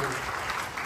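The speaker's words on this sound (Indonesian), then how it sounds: "Tepuk tanganmu, saudara." Congregation clapping together during a church service, a dense, steady wash of applause that fills the room at fairly constant loudness from start to finish.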